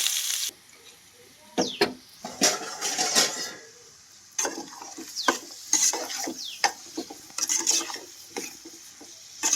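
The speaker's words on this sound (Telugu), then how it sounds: "ముందు ఉల్లిపాయలు అయితే వేసుకుంటున్నాను" Sliced onions frying in oil in a pan for a chicken cashew curry, stirred with a utensil: repeated scraping strokes and bursts of sizzling, close and fairly loud, with short quieter gaps between stirs.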